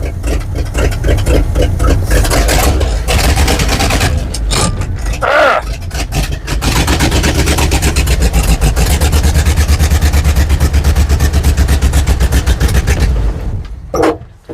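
A 1970 GMC 2500 three-quarter-ton truck engine runs loud and steady close by as the truck starts to move, a continuous low mechanical drone with brief rattles and clunks partway through.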